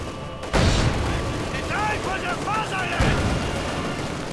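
In Company of Heroes 2, a T-70 tank fires on assault gunners: heavy booms break out, followed by chirping, whistling battle tones and another blast near the end.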